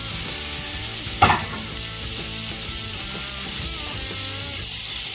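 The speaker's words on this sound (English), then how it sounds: "we'll go ahead and dump our onions in. Get them softened up a little bit." Onions sizzle steadily in a hot pan while being softened for a Salisbury steak, a continuous close frying hiss broken by one brief clatter early on, with no talking.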